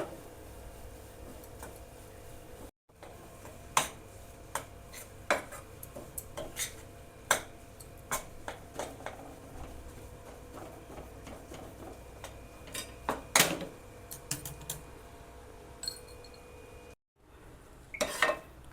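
Besan and semolina roast in ghee in a pan while a spatula stirs, giving a quiet background with frequent sharp ticks and scrapes against the metal.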